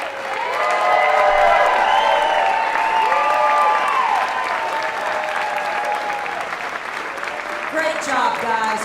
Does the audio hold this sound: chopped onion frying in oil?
no